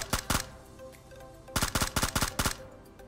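An M416 rifle fires in PUBG Mobile in two loud, close bursts: a quick pair of shots, then after a pause a rapid string of about seven rounds, each crack sharp and distinct.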